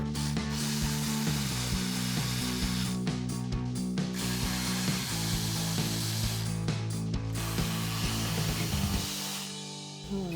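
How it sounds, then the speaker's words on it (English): A ratchet with a 12 mm socket removes brackets on a 2024-2025 Toyota Tacoma, giving continuous rapid, close pawl clicking with changing pace as the bolts back out. "So we've got our 12 millimeter socket on our ratchet."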